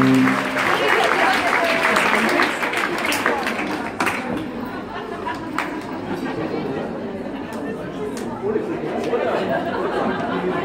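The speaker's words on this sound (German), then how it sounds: "Vielleicht mal einen kleinen Applaus auf den Daniel!" Concert audience in a reverberant hall applauds the sound engineer, a loud burst of clapping mixed with crowd chatter that thins and softens, then picks up again near the end.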